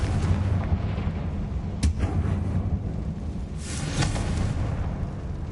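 The Confringo blasting spell fires in Hogwarts Legacy: a dense, loud, rumbling explosive roar that runs throughout, with a sharp crack partway through and a second swell of blast noise later.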